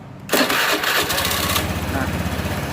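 A Honda Beat scooter engine catches after a starter whir and settles into a steady, close putter at idle, running alone.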